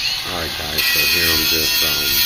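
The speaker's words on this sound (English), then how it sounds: "I'm just taking off the heavy rust here with the grinder." A grinder strips heavy rust from a steel trailer frame with a loud, constant high-pitched hiss and whir close by, while a person talks over it throughout.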